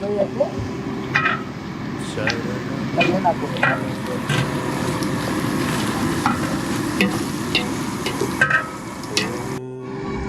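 Tomato rice bath cooking in a pan at an outdoor camp stop, with steady sizzling and a repeated scraping of stirring, while people talk nearby.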